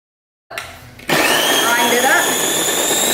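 An electric grinder whirs up Brussels sprouts into fine pieces: a short spin-up, then a loud, steady high-pitched motor whine that holds without letup.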